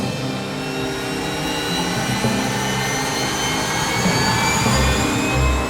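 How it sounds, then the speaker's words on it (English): A black helicopter's turbine engine spins up, its whine climbing steadily in pitch over a constant low roar, loud and close, with no talking. "The black helicopter comes to life"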